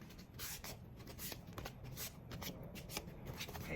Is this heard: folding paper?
yes